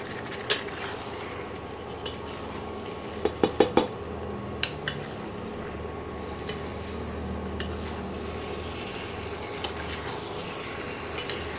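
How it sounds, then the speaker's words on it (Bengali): Mutton being stir-fried with spices in a pan, a steady sizzle running throughout with sharp metallic clinks of a spatula against the pan, including a quick cluster of scrapes early on and scattered taps later. "এইবারে মাংসর সঙ্গে মশলাটাকে কষাতে হবে"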